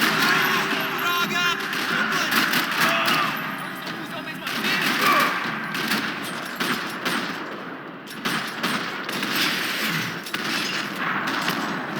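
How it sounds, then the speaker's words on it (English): In Max Payne 3, a parking lot rattles with gunfire: dense bursts of automatic and single shots crackle continuously at close range, mixed with game effects and shouted voices. "Another parking lot rattling with gunfire."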